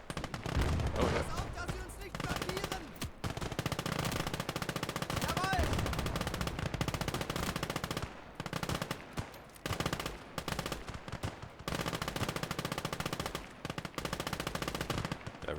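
Machine guns fire long rattling bursts in Call To Arms: Gates Of Hell, broken by short pauses and scattered rifle shots, loud and close, with voices heard at times.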